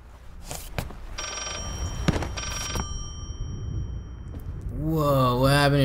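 A telephone rings in the horror video game Layers of Fear, two buzzing rings in quick succession over low ambient noise, followed by someone talking.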